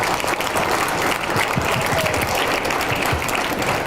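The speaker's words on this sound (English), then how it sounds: "let's give him another round of applause" An audience at a prayer gathering for Israel keeps up a full, even round of applause, many hands clapping together in a dense wash that holds steady throughout without speech.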